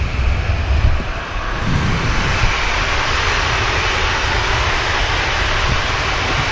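IndiGo airliner taking off from Manchester Airport bound for Mumbai, its jet engines a loud, steady broadband roar that holds evenly throughout, with no voices.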